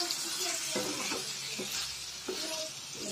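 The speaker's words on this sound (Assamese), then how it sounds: "গেছটো ল' ফ্লেমত ৰাখি কিনে এইখিনি মই 10-15 মিনিটমান ফ্ৰাই কৰি ল'লোঁ" Eel and potato pieces fry in spices over a low gas flame, a steady soft sizzle with occasional stirring scrapes and clinks throughout, no voices.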